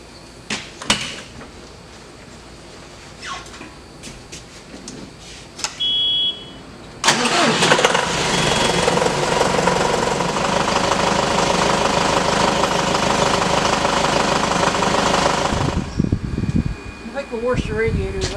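A John Deere tractor engine cranks and catches after some quiet shop noises, then idles loudly and steadily at close range for about eight seconds before cutting off abruptly.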